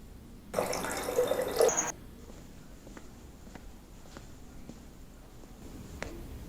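Tap water pours in a short, loud gush for a little over a second, then stops, followed by quiet room tone with a few faint clicks and drips.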